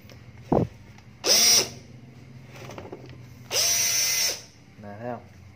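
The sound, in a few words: BD122 cordless drill running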